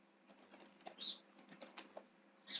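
An email address being typed on a computer keyboard, a quiet close run of irregular key clicks in short bursts with a couple of sharper taps, heard alone.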